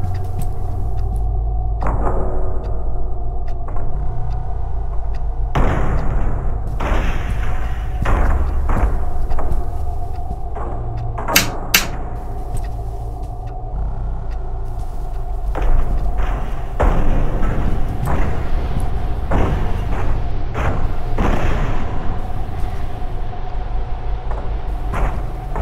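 Booms and heavy thuds from an assault raging outside in a horror video game, a string of loud, scattered impacts over a constant low rumble, some hits close together, with no talking.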